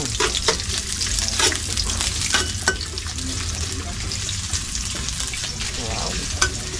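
Chopped ginger hitting hot cooking oil in a pan, a loud steady sizzle and crackle with stirring sounds throughout, close up and uninterrupted, faint water noises underneath.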